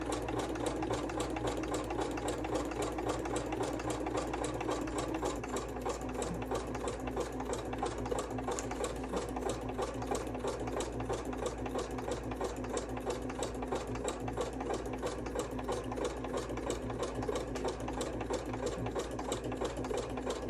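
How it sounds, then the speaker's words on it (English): A sewing machine runs foundation stitches back and forth across fabric for a fabric masterboard, giving a steady, fast, close mechanical whir and needle rattle that never stops. "go around and do some touch-up sewing for anything that's still sticking up"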